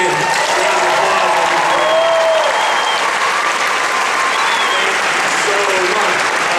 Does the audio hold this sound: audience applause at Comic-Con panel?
yes